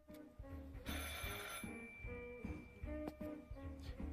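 A telephone rings in a video game: a loud, close bell trilling in repeated bursts over about four seconds with no talking.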